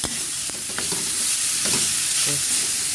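Marinated chicken stir-frying in a hot pan for cheesy popiah filling, with a continuous bright hiss and sizzle broken by occasional utensil scrapes and taps, close up with no talking.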